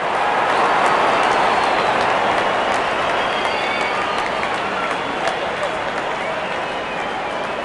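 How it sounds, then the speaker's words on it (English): Stadium crowd in the cricket video game Real Cricket 25: a dense, steady wash of cheering and noise, loud and continuous, with a commentator's voice audible under it. "There's such a wonderful crowd in to watch their favourite players."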